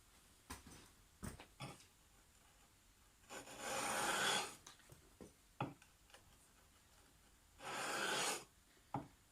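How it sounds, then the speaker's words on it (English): Chisel back held flat and ridden along a sharpening stone to polish the edge, two longer gritty rasping strokes amid scattered light taps and knocks, quiet and close. "we're just going to use the back of the chisel, and we're just going to ride it on this back edge here"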